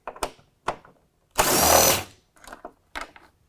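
A 10 mm bolt comes off a Ford F-150 during a Putco Nitro-Lux LED high beam install: a few short ratcheting clicks, one longer whirring spin of a tool, then more brief clicks, close and clear.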